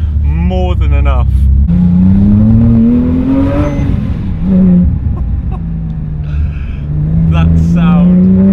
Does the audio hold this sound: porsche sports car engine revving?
yes